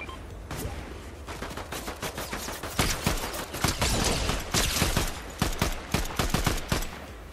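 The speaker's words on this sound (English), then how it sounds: "someone is shooting" Automatic gunfire in Fortnite rattles in fast, sharp volleys that grow louder and denser, a steady barrage of close shots with no talk over it.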